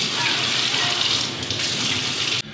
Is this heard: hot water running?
yes